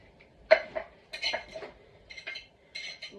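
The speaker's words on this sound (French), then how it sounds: "Vous êtes avec moi pour faire la vaisselle." Dishes being washed by hand in a kitchen sink, with scattered light clinks and clatters of plates and cutlery in short irregular bursts, fairly quiet and close.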